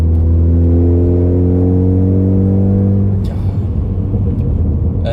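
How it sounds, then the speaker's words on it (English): Ford F truck exhaust drone under low-RPM acceleration, a loud, steady low hum with stacked harmonics that slowly rises in pitch, then gives way to rougher rumbling engine noise. "A few more like low RPM accelerations."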